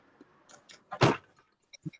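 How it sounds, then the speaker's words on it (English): A door is shut indoors, giving a single solid thump at the middle, with small clicks and light handling sounds around it, fairly close and moderately quiet. "Let me shut my door."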